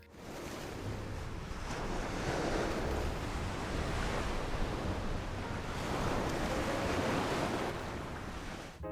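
Sea waves washing onto a beach: a continuous loud roar of surf rises and falls in broad swells, mixed with blustery wind noise against the microphone and no voices.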